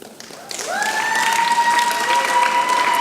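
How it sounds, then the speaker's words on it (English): An audience at an Onam celebration in Las Vegas breaks into loud, continuous applause for honored parents, rising after a quiet start, with a steady tone ringing through it. "They deserve a big applause"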